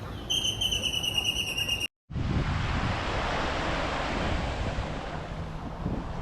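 Calm sea waves wash onto a beach in Playa del Carmen as a steady broadband rush with wind buffeting the microphone, briefly cut by a short gap, with high tonal bird-like notes at the start.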